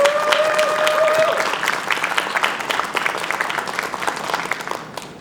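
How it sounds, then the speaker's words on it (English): A crowd at a furry convention's staff awards session claps in a dense, loud burst that gradually thins and softens, with a faint sustained tone underneath early on. "We have a round of applause for all of our supporting members."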